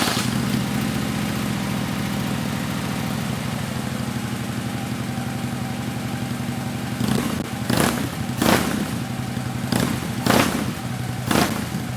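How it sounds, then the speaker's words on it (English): A 2013 Harley-Davidson Street Glide FLHX fitted with Kirker slip-on mufflers, close by, running at a steady deep idle and then giving five sharp throttle blips in the second half, each rev dropping back quickly to idle. "let's go ahead and listen to a startup and idle and a couple revs right now"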